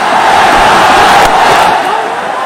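A large cricket stadium crowd in a Bangladesh versus Sri Lanka match roars in a loud, sustained cheer after a big hit, a dense wall of voices that eases slightly toward the end.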